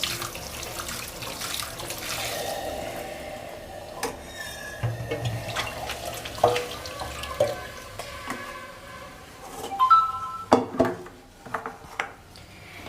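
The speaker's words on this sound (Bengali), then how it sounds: "এই যে একটা স্ট্রেনারে আমি জল সমেত ছেঁকে নিচ্ছি। আর মাংসটাকে একটু পরিষ্কার জল দিয়ে ধুয়ে নিচ্ছি।" Pieces of mutton are strained and rinsed under clean running water in a kitchen sink, with the tap running and water splashing, sloshing and draining nearby, interrupted by brief knocks of the strainer and no talking.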